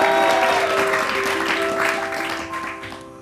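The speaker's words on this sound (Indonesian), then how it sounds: "pakai tepuk tangan sekali lagi dong" Studio audience applause on an Indonesian comedy talk show: a dense, loud burst of clapping that starts strong and slowly tapers over a few seconds, with sustained musical tones running beneath it.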